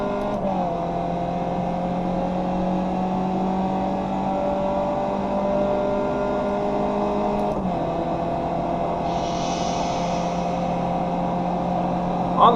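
Race car engine in iRacing on the Homestead Miami Speedway road course, a loud sustained drone that dips briefly, then holds steady as it pulls out of a corner under a constant roar.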